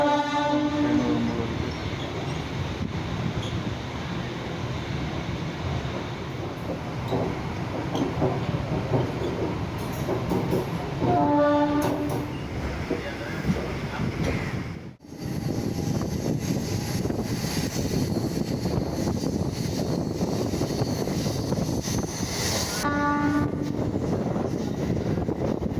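A MEMU passenger train on the Villupuram–Nagapattinam line via Peralam and Karaikal, entering Thirunallar station: a continuous close rail rumble with three separate horn blasts and one brief dropout near the middle.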